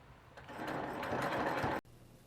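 Sewing machine stitching a quilt row at close range, a steady fast whirring hum that stops abruptly, with faint background hiss afterward.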